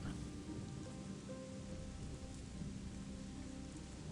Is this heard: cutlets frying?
no